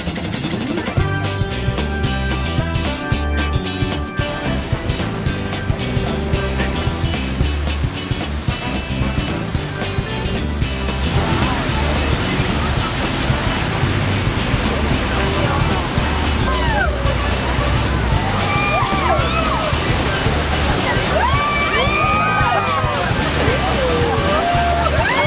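A boat rides near the Rhine Falls waterfall, with a continuous loud roar of rushing, splashing water and engine rumble throughout, and voices faintly mixed in.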